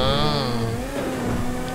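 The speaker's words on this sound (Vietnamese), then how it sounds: "Các bạn nghe cái tiếng lên số không?" A car engine in the video game GTA 5 shifts gear: a strained, high engine tone holds briefly, then drops in pitch as the next gear engages and settles into a lower, steady drone, heard close and alone.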